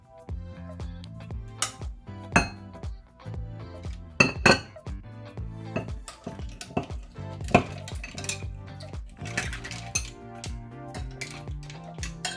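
A pan of mussels being handled and set on a stove, with irregular sharp metallic clanks, clinks and knocks of cookware, close up and loud, and no speech.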